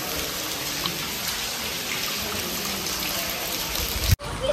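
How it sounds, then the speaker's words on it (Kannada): Heavy rain pours down at the hilltop Yoga Narasimha Swamy temple in Melukote, a dense, even hiss that stays constant and close. It cuts off with a sudden bump near the end. "ಮಳೆ ಜೋರಾಗಿ ಹೋಯ್ತಿದೆ"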